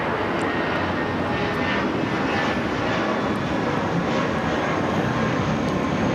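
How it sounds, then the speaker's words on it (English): An American Airlines Airbus A319 takes off at LAX, a loud, steady broadband jet roar that holds at close range throughout with no voices over it. "This is American Airlines 2239 taking off to San Antonio on the A319"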